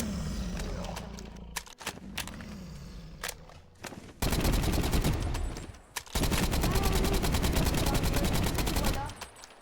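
Video game weapons firing at a dragon boss, loud sustained bursts of rapid automatic gunfire with explosive bangs, interrupted by brief pauses.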